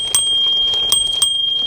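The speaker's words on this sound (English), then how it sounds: "and the little bell." Bell on a KBO Hurricane 2.0 skinny-tire e-bike rung several times close up: bright metallic dings with sustained ringing tones between strikes.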